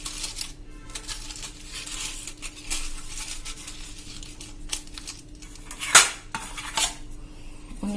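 A lid is pressed onto a container of homemade cheese wrapped in foil, with light clattering handling sounds and one sharp, close snap as it seats.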